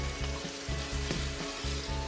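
Beef short ribs sizzle steadily in a pan after half a cup of beef broth goes in, a continuous close frying hiss with a faint rhythmic pulsing underneath.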